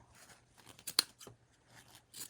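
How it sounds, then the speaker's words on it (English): Scissors make several quiet snips through a thrifted shirt, close by but faint, with one sharper cut in the middle. "We're going to cut the middle"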